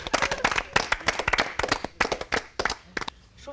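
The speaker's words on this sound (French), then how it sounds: "on applaudit, ça." A small group claps by hand in scattered, uneven bursts, with individual claps clearly separated and no talking over them.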